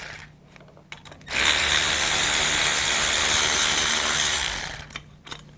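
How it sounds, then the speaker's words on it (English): A single sustained burst of a power ratchet or impact tool undoing bolts on a Mercedes Sprinter van engine during intake manifold work, loud and steady for about three and a half seconds, with faint clicks before and after. "We're going to undo these bolts over here."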